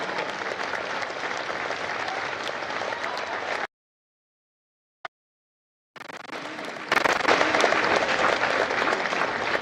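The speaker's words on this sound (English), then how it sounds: "Ladies and gentlemen, a round of applause for their dedicated service to Florida." Audience applause for Marines at a recruit depot graduation ceremony, dense steady clapping that breaks off into silence for about two seconds, then resumes louder and fuller.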